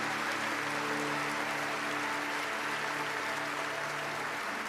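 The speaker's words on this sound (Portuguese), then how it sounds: "Aplauda o mais forte que você puder." A church audience applauds as hard as it can, a dense, unbroken roar of clapping that holds at full strength from start to finish.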